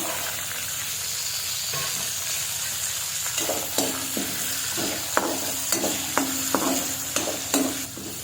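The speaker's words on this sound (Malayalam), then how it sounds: "അതേ എണ്ണയിൽ നമുക്ക് ഈ വെളുത്തുള്ളി ഇടാം സവാള ചേർത്ത് കൊടുക്കാം" Garlic and onion frying in hot oil for a chicken liver masala, a steady close sizzle with a run of sharp scraping stirs from a spoon against the pan in the second half, no talking.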